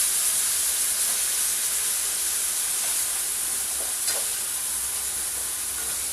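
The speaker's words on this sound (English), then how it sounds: "It actually doesn't take that long to brown these to the acceptable amount of browning." Pork pieces brown in a hot pan with a continuous, even sizzle and a faint hiss, with occasional light scrapes.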